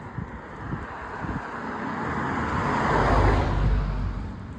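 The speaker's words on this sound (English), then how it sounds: "oh, another car coming up" A car drives up a village road in West Malvern, its tyre and engine roar building from faint to loud as it nears and passes close by, then fading slightly, over a steady wind-like background.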